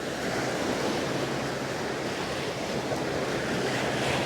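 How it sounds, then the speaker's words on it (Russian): Sea waves wash steadily onto a small beach on Koh Lan island, a continuous broad roar with wind noise and no voices. "Единственный минус, конечно, волны."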